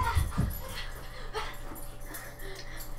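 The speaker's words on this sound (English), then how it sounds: "my dog" A pet dog whimpers and yips excitedly, a couple of close, sharp vocal bursts at the start followed by softer whines over a steady hum of background noise.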